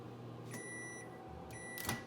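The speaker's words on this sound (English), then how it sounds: "I know that with my microwave, which isn't super powerful, I can start with 1 minute" A low-powered microwave oven runs while melting chocolate in a glass bowl, a steady hum with a couple of brief tonal beeps and clicks, no talking.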